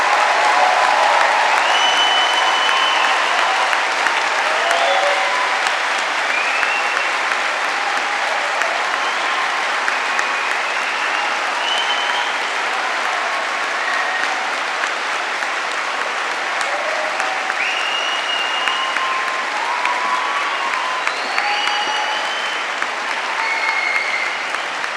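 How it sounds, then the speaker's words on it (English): Open University graduates and guests at a London degree ceremony give a long, sustained round of applause that fills the hall, with dense clapping throughout and a few faint voices mixed in. "let's give our newest bunch of Open University graduates a final rousing round of applause"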